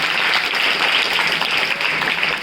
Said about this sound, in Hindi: हाँ, अमन गुप्ता के लिए एक और ताली।